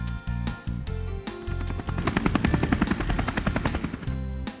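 A helicopter's rotor chops in a fast, steady rhythm, entering after a brief musical jingle and staying loud to the end.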